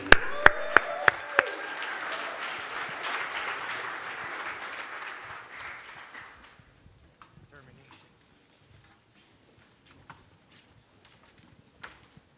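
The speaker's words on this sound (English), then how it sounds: "Let's give a round of applause for Push Academy." Audience applause for a student team at an Aspen Challenge event, a few sharp claps opening into a burst of crowd clapping that fades out after about six seconds, leaving scattered faint taps.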